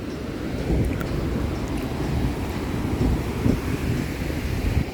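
Sea waves crash against the rocks of a hidden beach at Kashei in Ratnagiri, a continuous low rumbling surge mixed with wind buffeting the microphone and no voices.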